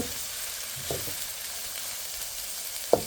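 Onion sizzles quietly in mustard oil in a kadai, a faint, steady hiss close by, broken by a soft utensil touch near the start and a sharper clink near the end, with no talking.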